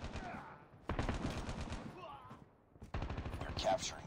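Light machine gun fire in the Call of Duty Mobile multiplayer game, sustained bursts crackling in dense blocks with short gaps between, loud and close, mixed with game effects.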